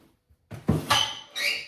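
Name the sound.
overfull drawer being opened or closed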